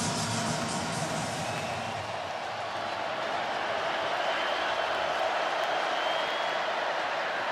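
A sellout college football crowd at Bryant-Denny Stadium roars after a touchdown in Tennessee at Alabama, a dense, sustained wall of cheering and yelling that holds steady throughout without a break.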